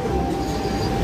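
Dharmawangsa passenger train arriving at Pasar Senen station, a steady broadband rumble of rolling railcars nearby, continuous and even throughout with no talk.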